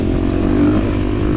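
A KTM 350 dirt bike engine roars steadily and loud during a wheelie pass in a scramble race, a close, sustained motor drone with no break.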